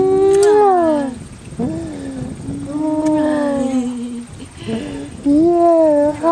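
A puppy howls in a series of drawn-out, wavering cries that rise and fall, fairly loud and close, with brief pauses between howls and no talking.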